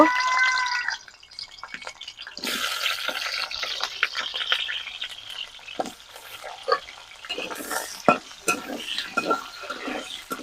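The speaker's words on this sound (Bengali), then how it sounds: "তেলটা গরম হয়ে গিয়েছে আলুগুলো দিয়ে দেব" Potatoes dropped into hot oil in a kadai start frying with a burst of bubbling sizzle that keeps crackling, mixed with clatter and stirring, fairly close, with no speech.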